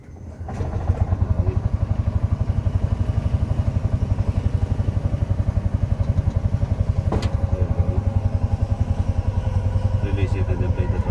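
A tuk-tuk engine idles with a fast, steady chugging pulse as the throttle is worked, loud and close, with a few clanks and occasional rises in engine note.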